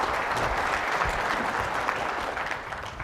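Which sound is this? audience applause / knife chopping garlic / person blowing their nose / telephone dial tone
audience applause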